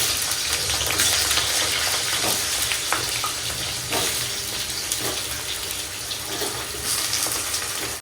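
Chicken spice masala fries in a pan with a loud, steady sizzle that runs unbroken throughout, broken now and then by small sharp ticks and pops.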